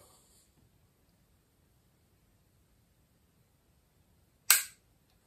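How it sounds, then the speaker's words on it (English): A single sharp dry-fire trigger click from a Pardini K12 air pistol sounds once, close and crisp, after several seconds of near silence. "shooting dry fire"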